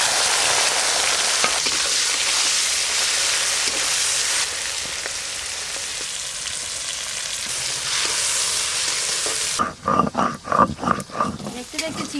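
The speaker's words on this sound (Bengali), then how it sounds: "ওই একই তেলে চিংড়ি মাছগুলো ভালো করে ভেজে নেব।" Prawns frying in oil already used for fish, a loud, dense, continuous close sizzle that drops sharply near the end, followed by a few clattering stirs.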